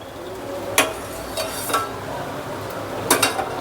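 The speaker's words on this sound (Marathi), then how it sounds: "कडेची जी साय असते ती देखील आपण काय करायचं, खरडून ह्याच्यातच आपल्याला घ्यायची आहे" A metal spoon scrapes the sides of a pan of simmering milk to gather the skin for strawberry basundi, making three or four quick rasping scrapes and clinks over a soft background bubble.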